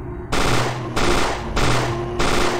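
Automatic gunfire in the Resident Evil: Containment fan game, four loud rapid bursts of about half a second each with brief gaps between them, close and harsh.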